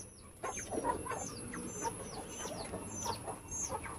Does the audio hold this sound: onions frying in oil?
no